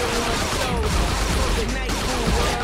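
Gunfire rattles in rapid bursts from a gun in the video game Saints Row The Third Remastered, loud and busy over game sounds with a voice faintly mixed in.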